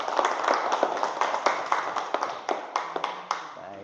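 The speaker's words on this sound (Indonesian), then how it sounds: "beri tepuk tangan buat kelompok 4." Students clap for a presenting group in an automotive engineering classroom, a loose scatter of separate hand claps that thins out and trails off toward the end.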